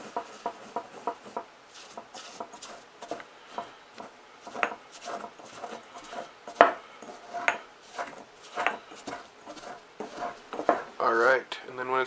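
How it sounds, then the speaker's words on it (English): Salt, pepper and oregano being mixed in a bowl, with repeated close scraping and clinking of a utensil against the sides in an uneven rhythm, and a voice talking at times. "we're just going to take everything and mix it together"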